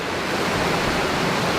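Underground river in a huge cave, a dense, steady roar of flowing water, close and loud throughout the short stretch, with no other sounds.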